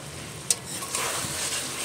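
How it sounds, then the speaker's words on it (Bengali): Spice paste being stirred and fried in a pan for a Bengali boal fish curry with potato and eggplant, a steady close sizzle with a sharp spatula tap near the start. "আমি যেরকম কন্টিনিউয়াসলি নেড়ে যেতে যেতে মশলাটা কষিয়ে নিচ্ছি"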